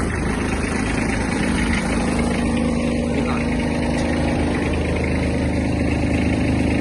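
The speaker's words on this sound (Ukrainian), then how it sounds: "Поки фреза впущена, давайте ще включимо вал відбору потужності." Kubota GB-15 Japanese mini tractor engine running steadily with the PTO shaft engaged and rotary tiller blades spinning, a constant loud, dense mechanical drone with no talk.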